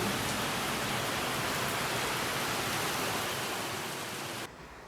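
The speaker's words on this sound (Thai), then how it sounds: "ฝนตกเฉยเลย" Steady rain falls outside, a dense, even hiss that stays loud and constant before dropping off abruptly near the end.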